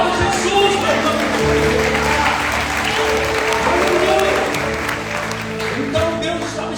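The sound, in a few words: church congregation applauding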